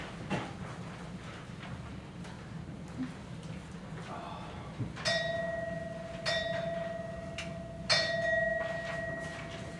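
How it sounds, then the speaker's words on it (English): Bells ring in a quiet room: three separate clear, ringing strikes, each sustaining briefly before the next, fairly soft over a low background hush. "Bells. Ringing. I've been hearing bells."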